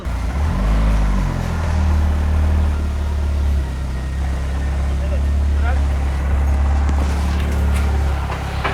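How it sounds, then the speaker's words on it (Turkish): Idling car with a gearbox fault giving off a bearing-like noise, a continuous low engine drone with a faint whirring hum layered on top. People talk close by throughout. "Rulman ama şu anda rulman sesine benziyor."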